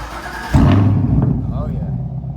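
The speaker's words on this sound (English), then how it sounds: "Let's hear how this thing sounds with the exhaust on. Start up with the axle back." A 2021 Camaro with the LT1 V8 and a C&L axle-back exhaust cranks and fires, a sudden loud low rumble that settles into a throaty idle, close to the mic.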